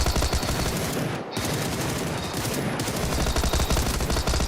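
Sustained rapid automatic gunfire from a video game gun, loud and dense, rattling continuously with a brief break just past one second and another shorter dip near three seconds, no speech over it.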